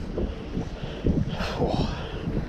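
Brutal wind gusts roar across open trout fishing water outdoors, a continuous low rumble of buffeting on the microphone that swells slightly midway, with faint voice underneath.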